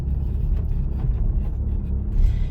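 Car rolling in first gear at about 10 km/h on a driving test, with a low steady engine rumble heard from inside the cabin, fairly loud and even, without talk.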